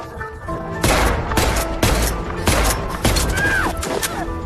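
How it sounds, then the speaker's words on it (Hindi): Several loud gunshots crack out in irregular bursts, each a sharp blast that trails off, with other tones and sounds running underneath. "अन्ना ने बंदूक निकाली और जमीन पर लेटकर गोलियां चलाने लगी।"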